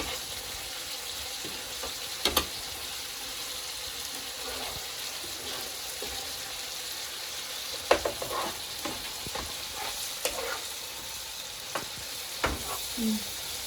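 Egg masala frying in a pan as it is stirred, a steady close sizzle with a few sharp scraping clicks from the spoon scattered through, no voices.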